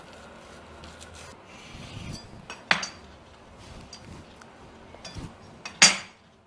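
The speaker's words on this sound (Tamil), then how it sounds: "4 துண்டாக கட் பண்ணுங்க" A knife cuts through vegetable cheese toast into four pieces, with soft rasping strokes and a couple of sharp clinks against a plate, close and quiet.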